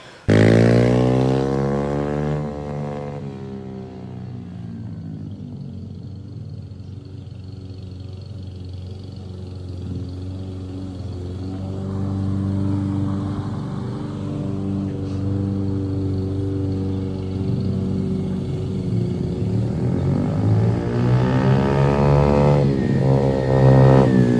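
A 2021 YCF Start F88S 88cc pit bike runs steadily while ridden, its small engine holding a loud, continuous drone with gentle swells in pitch, rising near the end.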